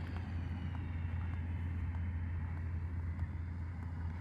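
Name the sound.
Volantex F4U Corsair 500mm RC plane taking off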